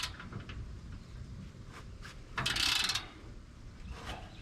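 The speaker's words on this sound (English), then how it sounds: "And not use this silly double-sided ratchet either." Double-sided ratchet wrench clicks while turning a bolt on a Camaro racecar, giving soft repeated ratcheting strokes with one louder, denser burst of clicking near the middle, close up and without talk.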